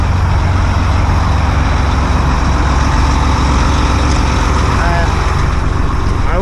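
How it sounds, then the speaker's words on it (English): A heavy haul truck engine idles while warming up, giving a loud, steady low rumble that holds unbroken through the whole stretch. "Now we're just warming up the engine."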